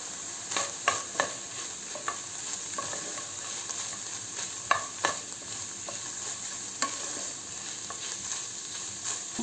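Onions fry in a pan, a soft continuous sizzle broken by scattered scraping and clicking taps as a utensil stirs them, close and fairly quiet, with no talking.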